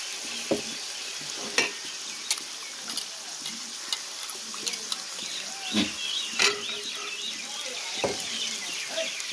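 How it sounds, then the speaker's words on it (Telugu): Masala spices frying in oil for a bitter gourd (kakarakaya) pulusu curry, a steady broadband sizzle broken by sharp clicks of a spoon stirring against the pan, close and moderately loud with no talk. "మసాలా కూడా బాగా 2 నిమిషాలు వేగనివ్వండి ఆయిల్లో."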